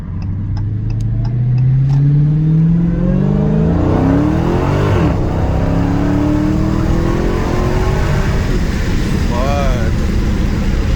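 A 2022 Dodge Challenger Hellcat with a supercharged 6.2L 717hp engine accelerates hard in sport mode, its loud roar climbing steadily in pitch through the gears with a supercharger whine, heard from inside the car as occupants talk.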